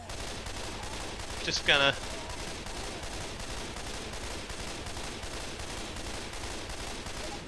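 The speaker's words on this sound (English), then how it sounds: "you can make a beat out of that shooting" A gun in Left 4 Dead 2 fires at a Tank in a fast, regular stream of shots that runs continuously, with a voice briefly speaking over it early on.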